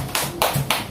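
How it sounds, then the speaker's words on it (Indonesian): A classroom of students applauds a pupil during a primary-school science lesson, a short burst of loud, dense clapping with a few rhythmic surges, close and without talk. "Beri tepuk tangan untuk Sidik."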